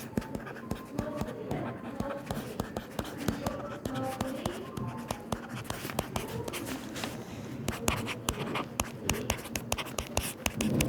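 Pen writing a calculus problem on paper, steady close scratching and tapping strokes throughout, with soft desk knocks.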